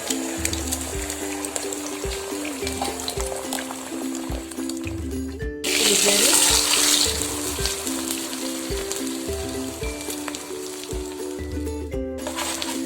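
Beaten egg omelette mixture frying in a pan, a steady close sizzle throughout that swells into a louder, brighter hiss around the middle as more batter hits the hot oil.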